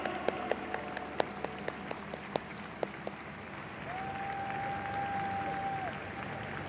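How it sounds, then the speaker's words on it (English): Applause for award winners fills a large stadium at the Tokyo 2020 Paralympic closing ceremony. A few sharp individual claps stand out over a distant crowd wash, and a sustained tone enters partway through. "Please give them a round of applause."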